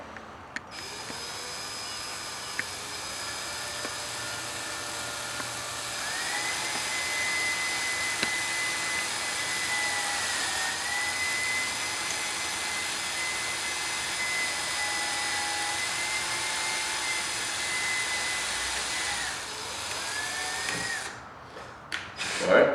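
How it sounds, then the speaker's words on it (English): A power drill bores a series of holes into a Club Car Diamond golf cart body for a diamond plate accessory kit, whining steadily at close range with brief pitch shifts as each hole is cut, no talking. "we'll start drilling right now"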